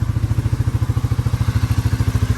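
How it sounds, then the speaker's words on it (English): A Yamaha Raptor 350 ATV with a carburetor idles steadily nearby, its single-cylinder engine putting out an even, rapid chugging pulse with a faint mechanical clatter, and nobody speaks over it. "Thing's idling perfectly."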